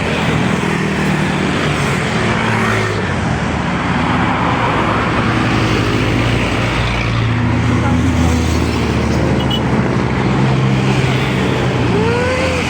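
Steady, loud traffic roar from vehicles crossing a bridge, a continuous wash of engine and tire noise with several passing cars blending together throughout.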